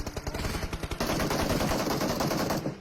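Gunfire in the mobile battle game PUBG Mobile, a burst of rapid automatic shots followed by a dense continuous barrage, loud and close.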